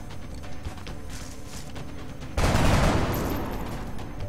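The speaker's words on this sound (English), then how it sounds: "Let's let the gunner shoot at this guy." Gunfire from a gunner in the video game XCOM: Long War: a sudden loud burst of rapid shots erupts midway through and then lingers as a dense, fading rattle after a quieter stretch of game ambience.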